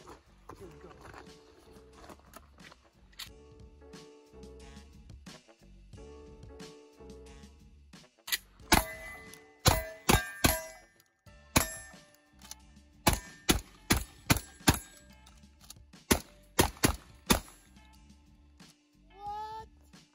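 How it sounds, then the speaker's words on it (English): An IWI TS12 shotgun fires on targets in a box drill outdoors, about a dozen sharp, loud blasts in quick irregular pairs and runs, with quieter handling noise before the shooting starts. "I'm gonna do a box drill with a shotgun with these two targets"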